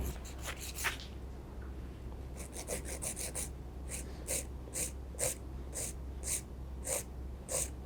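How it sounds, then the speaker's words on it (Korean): A nail file rasps back and forth across an extended artificial nail tip in a nail art lesson, giving quick close strokes in short bursts with a low steady hum beneath. "지금 갈고 있는 데가 연장한 인조 팁이기 때문에 파일 비벼도 상관은 없는데"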